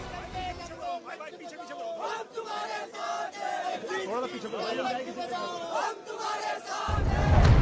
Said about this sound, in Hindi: कोई जय श्री राम के नारे लगा रहा था, कोई हिंदू एकता जिंदाबाद कर रहा था